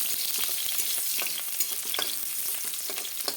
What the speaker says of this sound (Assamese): এতিয়া অলপমান সময় ৰঙচুৱা হোৱালৈ ভাজি থাকিম